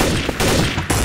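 Sustained rapid gunfire from the video game Counter-Strike: Source, a loud, dense burst of overlapping shots that continues almost unbroken through the short moment.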